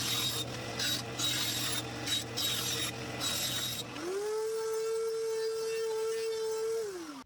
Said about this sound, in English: We'll go ahead and cut it on the bandsaw or your squirrel saw. I recommend a bandsaw, and then we'll go ahead and trim it.